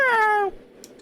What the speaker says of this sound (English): The cat's cry scrapes at the insides of my ears.